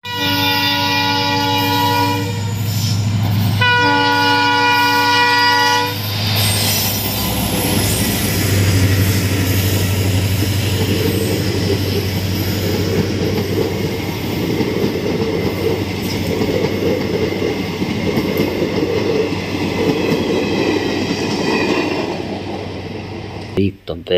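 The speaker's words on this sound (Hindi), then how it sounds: "ये है ट्रेन गाड़ी, बहुत सुंदर खूबसूरत है।" A train in a cartoon vehicle showcase sounds two bold horn blasts, then a loud, steady rumbling roll of rail cars continues close by for the rest of the clip.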